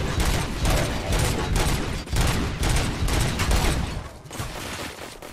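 Dense, sustained bursts of gunfire from a weapon in RoboCop: Rogue City, loud and close, with rapid repeated shots in waves and brief pauses between volleys.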